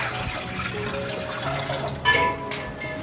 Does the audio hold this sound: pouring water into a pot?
yes